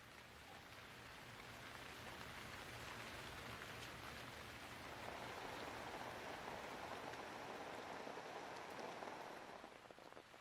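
Steady rain falls through a forest where red pandas live, a dense, even patter of drops on leaves and surfaces that holds constant throughout with no voices.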